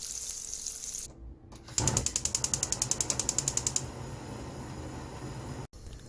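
A gas stove igniter clicks rapidly in a steady run of about twenty ticks, then the burner catches with a soft whoosh under a low background hum.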